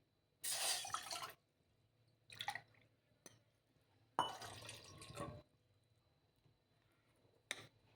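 Water poured into a pot for tea in a quiet kitchen, heard as a few separate short splashing pours with near-silent pauses between and a faint drip.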